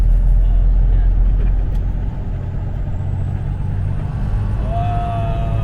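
A truck engine runs with a heavy, low rumble during gear shifting, the pitch dipping briefly partway through, with a faint whine near the end.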